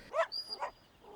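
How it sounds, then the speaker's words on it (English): An ordinary pet dog gives a few short yips and whimpering barks close by, two or three quick bursts in about a second. "this is just an ordinary pet dog"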